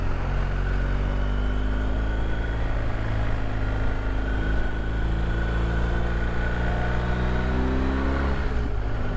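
BMW R 1250 GS Adventure motorcycle accelerating away on a country road, a loud close engine drone with rising harmonic pitch through the gears, steady and continuous with no talk.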